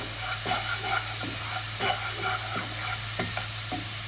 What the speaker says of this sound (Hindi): 1 टेबलस्पून हमने लहसुन डालना है, लहसुन का पेस्ट। के लिए इसको फ्राई करेंगे।